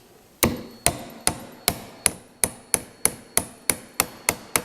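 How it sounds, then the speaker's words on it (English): An upholstery tack hammer drives tacks into old, fragile wood in about a dozen sharp, evenly spaced taps with a steady rhythm, close and clear, with no talking. "This is a upholstery tack hammer."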